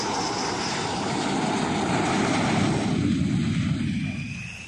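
Rafale fighter jets arriving at Jamnagar airbase in Gujarat after a nonstop flight from France, a broad roaring engine noise that builds steadily and then begins to fade away.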